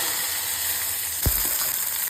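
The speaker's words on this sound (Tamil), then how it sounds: "இந்த நேரத்தில் கருவேப்பிலை போட்டுக்கலாம்" Curry leaves go into hot oil with popped mustard seeds in a kadai. A steady, close sizzle gets a short, louder hiss as they hit the oil.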